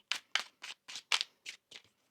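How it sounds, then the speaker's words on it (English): Tarot cards being shuffled at a reading table, a quick series of about seven crisp riffling bursts in a steady rhythm, close and fairly quiet with no talk over them. "One more shuffle here."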